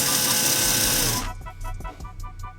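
A small electric motor in a homemade heavy-duty 1/10-scale RC crawler spins up after the ESC is switched on, a loud even whir that cuts out after a second, followed by quieter faint mechanical clicks and ticks.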